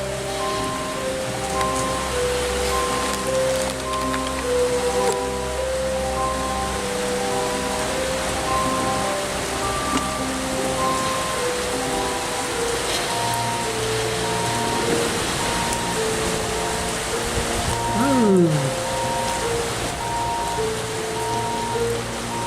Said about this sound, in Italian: il temporale, è iniziato